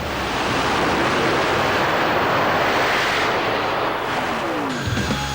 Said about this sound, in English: Jet dragsters, Pratt & Whitney J60 jet engines with afterburners on them